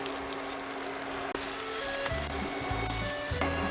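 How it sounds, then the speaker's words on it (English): Salted veal fries in a hot pan with a steady, close sizzle and crackle, rising slightly as pieces are moved around; no one speaks. "So we're first going to cook our veal, and then we'll do our mushroom cream sauce."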